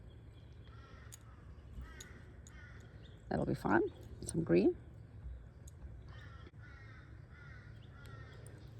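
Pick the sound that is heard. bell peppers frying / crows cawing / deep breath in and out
crows cawing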